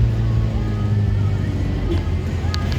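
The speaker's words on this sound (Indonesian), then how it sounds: "tanjakannya ini gigi satu nih kan, udah ngeraung" A car engine strains loudly in first gear on a steep uphill road near Pantan Terong, Aceh, a steady low drone heard from inside the vehicle.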